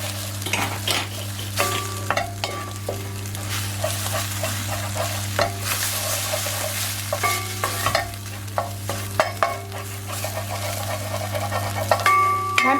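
Eggs scrambled in a frying pan with a wooden spoon give a steady sizzle under repeated scraping and stirring strokes, with occasional light clinks of utensils, continuous and close throughout.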